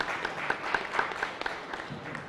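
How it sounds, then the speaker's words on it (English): An audience at a business forum claps in rhythmic, moderately loud applause that keeps going steadily from start to finish, with no voices over it. "So a round of applause for them, please"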